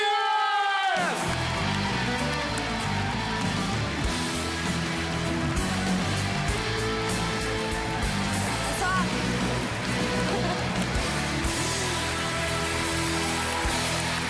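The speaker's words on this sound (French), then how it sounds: "Commencez à l'applaudir très, très, très fort." A comedy gala crowd bursts into loud, sustained applause and cheering that fills the room as a comedian is introduced, with whoops rising over the clapping and music playing underneath.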